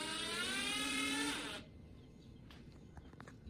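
A cordless drill drives a screw in a tight spot inside a box, giving a steady, high whir for about a second and a half before cutting off to quiet handling sounds.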